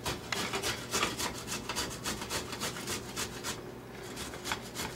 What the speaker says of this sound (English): Grate the ginger.